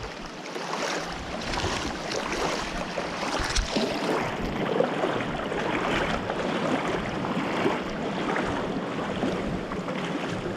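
Rushing water from a hidden waterfall fills the air on a hiking trail, a steady broadband roar that holds constant without voices.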